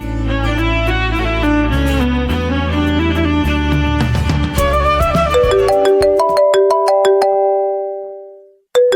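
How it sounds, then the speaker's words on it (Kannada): A phone rings with a melodic electronic ringtone in a scene from a Kannada TV serial. Bright chiming notes play in a steady pattern, then ring out and fade near the end. "ಮತ್ತೆ ಯಾಕೆ ಫೋನ್ ಮಾಡ್ತಿದ್ದಾನೆ?"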